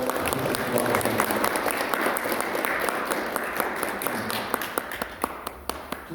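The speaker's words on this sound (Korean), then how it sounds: "두 분께 큰 박수로" A seminar audience at a Buddhist studies research institute applauds two presenters with steady, dense clapping that thins into a few sharp, separate claps near the end.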